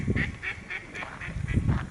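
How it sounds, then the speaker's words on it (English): Ducks quack repeatedly beside a little stream in a park in Christchurch, New Zealand, a steady run of close, fairly loud calls with a nasal, regular rhythm. "And very talkative ducks."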